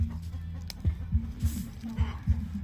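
Chickens cluck in a steady series of low, short clucks, fairly close, with a busy outdoor village background behind them.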